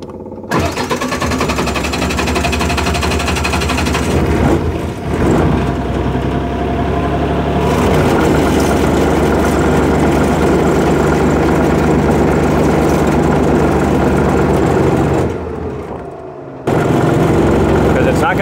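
An MEP 1040 military diesel generator restarts and runs steadily, a loud continuous low engine drone with a brief dip near the end before picking back up.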